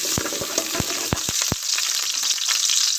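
Garlic fries in hot oil in a pan, a bright crackling sizzle up close with a burst of sharp pops and taps in the first second and a half, then a steady hiss.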